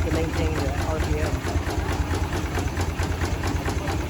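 A 1912 Case antique steam engine drives a sawmill with a steady, rhythmic chugging that stays loud and constant throughout, with voices partly mixed in.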